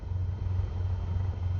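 A Cessna Skyhawk's piston engine runs in Microsoft Flight Simulator 2024, a steady low droning rumble that is even and unbroken, heard alone with no talking.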